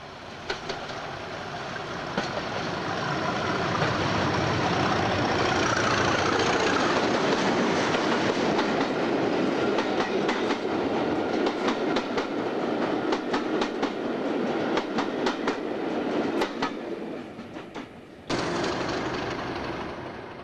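British Rail Class 37 diesel locomotive train passing at length, a loud sustained rumble with rhythmic clickety-clack of wheels over rail joints, ending in an abrupt shift.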